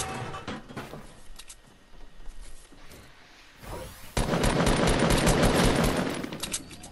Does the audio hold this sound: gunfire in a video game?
yes